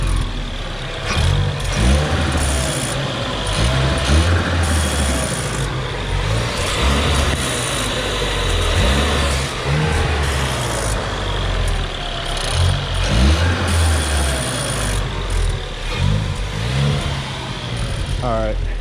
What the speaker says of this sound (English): there's one more problem, and it's a rattle